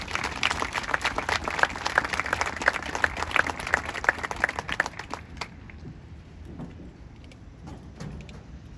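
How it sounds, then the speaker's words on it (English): Audience applause at an 8th grade graduation ceremony, scattered claps over a steady crowd patter that thins out and fades to quiet after about five seconds. "Let's have a round of applause as they take their seats."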